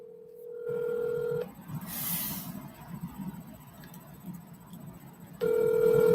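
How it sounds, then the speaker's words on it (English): Phone dialing on a call: a steady tone, a brief chirp, then a low rumbling stretch before the tone returns, faint and without talking. "Let's call Southpaw"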